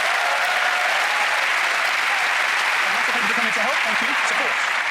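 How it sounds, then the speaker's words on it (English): A studio audience on a magic competition show breaks into a steady, dense round of applause as a volunteer named Sophia is called up onstage, with some voices and cheers rising near the end. "Give her a round of applause"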